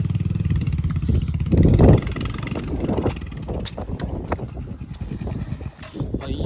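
A heavy vehicle moves along a muddy off-road track during the monsoon in Coorg, a loud engine rumble with rough, uneven surges and a brief louder burst near the start, close by with wind noise.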